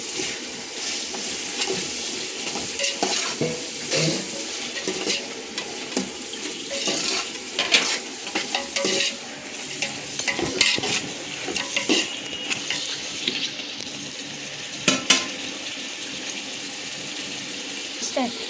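Chopped tomatoes are stirred into browned onions in a pan for mutton biryani, giving a steady sizzle with irregular scraping and clinking of the spoon against the pan throughout.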